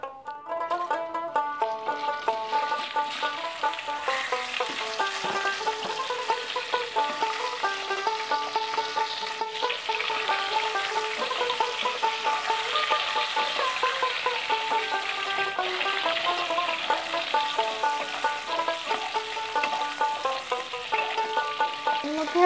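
Raw mango pieces for a sweet and spicy mango pickle fry in hot oil with dried red chilli, making a continuous hissing sizzle under steady melodic background music.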